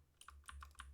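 Keys clack on a computer keyboard during PC gameplay, a quick burst of four or five faint, sharp taps within a second, close and alone.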